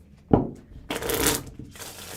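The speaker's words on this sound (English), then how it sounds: "maybe you shuffle" A deck of playing cards riffled and squared close by, a quick crisp shuffle followed by a longer fluttering ruffle during a magic trick.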